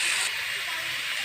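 Fish roe and potatoes sizzle in hot oil, a bright steady hiss close by, brief and continuous, with a voice speaking over it.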